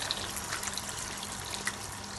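Water trickles and splashes steadily at low volume for a couple of seconds, with no voices, as a small amount of water is poured into a pot of Jamaican stew chicken to rinse it.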